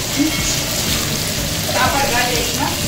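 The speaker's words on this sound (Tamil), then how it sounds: "இந்த கருவாடை முங்குற அளவுக்கு எண்ணெய் ஊற்றிருக்கிறேன். பொரித்து எடுத்துருவோம்." Dry fish deep-fries fully submerged in hot oil, giving a constant crackling sizzle with scattered bubbling pops. The sound is close and continuous throughout.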